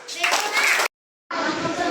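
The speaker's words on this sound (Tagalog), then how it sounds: "Okay, bigyan natin ng 10 palakpak." Schoolchildren clap together in a dense burst, stop briefly in a clean gap of silence, then clap again, loud and close.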